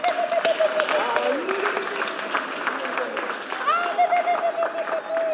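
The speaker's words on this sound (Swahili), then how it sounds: "Tusimameni na mtumpigie makofi" An audience at a Gema Cultural Association celebration stands and applauds to welcome the association's chairman. Sustained clapping fills the hall from start to finish, with a voice speaking over it.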